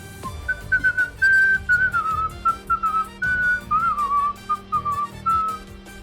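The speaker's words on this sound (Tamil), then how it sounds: "விசில் செய்தபடி அந்த பேங்கை விட்டு வெளியே சென்றான் கிஷோர்" A man whistles a lilting tune, clear and fairly close, in short melodic phrases with brief pauses between them.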